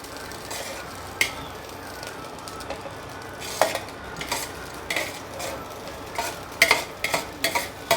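Metal spatula scraping and clinking in a pan as cooked coconut rice sevai is added and stirred, irregular taps and scrapes over a soft sizzle, close and fairly quiet.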